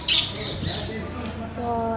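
A sparrow gives a short, sharp squawk close by, followed by faint chirps under household background noise.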